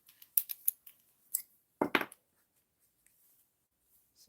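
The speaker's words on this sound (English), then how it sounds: "So I'm going to take a little piece, need scissors." Scissors snip a small piece of quarter-inch blue gingham ribbon in a craft studio, a handful of sharp, close clicks and cuts scattered over a few seconds in a quiet room.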